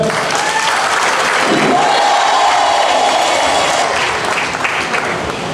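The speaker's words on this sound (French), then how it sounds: "Applaudissez pour vous, s'il vous plaît." Loud, sustained applause from a large audience at a gala in Montreal, dense clapping filling the whole stretch with a few scattered shouts.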